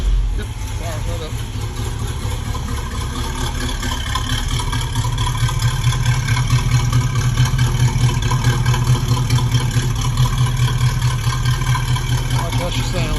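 A 1974 Nova's engine, with a front exhaust leak, runs steadily at idle: a loud, continuous low rumble close by that holds even throughout.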